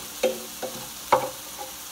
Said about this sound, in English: I'm gonna give this another stir.